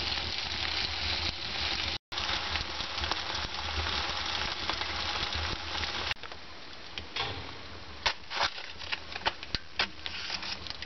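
Potatoes roasting in an open fire outdoors in the countryside, a steady close crackle and sizzle with scattered pops and ticks, no talking.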